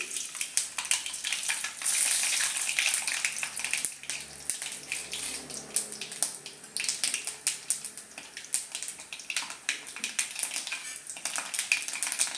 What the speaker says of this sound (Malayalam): കടുക് പൊട്ടി പാകായി അതിൽ കറിവേപ്പില ഇട്ടു.